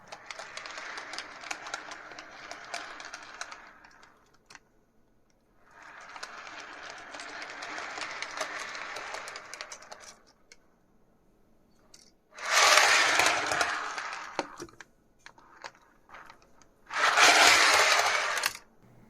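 Model railway ballast hopper wagons roll over newly laid track, giving two long stretches of steady rumbling clatter followed by two louder, brighter bursts of rattling, with quiet gaps between and no voices.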